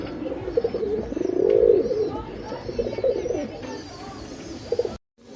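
A male Kala Gulzar pigeon coos close by in a series of soft, throaty, rolling calls, the loudest swell coming early, with a voice speaking faintly alongside.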